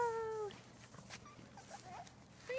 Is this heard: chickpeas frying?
no